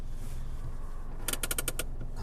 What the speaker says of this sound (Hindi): हैंड ब्रेक उठाइए।